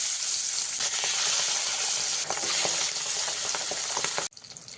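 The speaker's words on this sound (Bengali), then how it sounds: "এইভাবে বাকি মাছগুলো আমি ভেজে নেব" Pabda fish fry in mustard oil with a dense, constant sizzle and crackle close up, broken by a few light clicks of turning, before the sound cuts off abruptly near the end.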